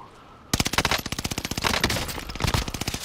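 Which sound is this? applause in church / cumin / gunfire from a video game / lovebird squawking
gunfire from a video game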